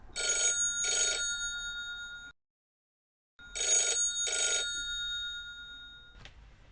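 A telephone bell rings in two loud double-ring bursts separated by a silent gap, the tone bright and close, with a faint click after the last ring.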